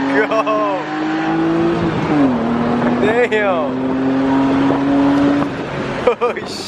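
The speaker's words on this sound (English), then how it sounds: "Yeah, do a burnout." A car doing a burnout at a rowdy Labor Day car meet: a loud, sustained engine drone holds steadily across the clip, with bursts of excited shouting from a crowd over it.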